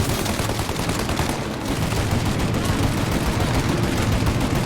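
Sustained loud gunfire in a Mafia video game shootout, dense overlapping shots and bursts rattling continuously with no clear pause.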